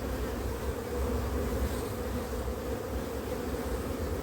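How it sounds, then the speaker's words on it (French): Honey bees buzzing inside an open hive, a dense continuous droning hum, close and steady with no pauses. "Donc là on a des très jeunes abeilles"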